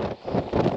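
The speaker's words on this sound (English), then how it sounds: "It's very wet, it's very windy." Gusty wind buffeting the microphone in rough, uneven bursts on the wet, foggy summit of Great Gable, loud and close, with no voices.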